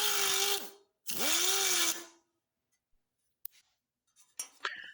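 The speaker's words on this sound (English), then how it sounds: "we're going to use a carbide bit and carefully shave away, not damaging the bracket itself, until we have enough gone" Carbide bit on a power tool shaving down a bumper bracket fastener on a 1964 Chevrolet Impala SS, two loud whining bursts about a second each, then quiet with a few small clinks and scrapes.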